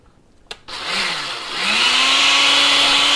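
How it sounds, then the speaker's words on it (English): A blender starts with a click and roars up to high speed blending butternut squash hummus, its motor pitch rising and then holding a loud, steady whir close by. "We're going to turn on the blender and let her rip."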